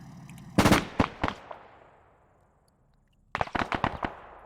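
Video-game gunfire comes in two loud bursts of sharp shots with a short quiet gap between them, the first burst trailing off into echoing decay.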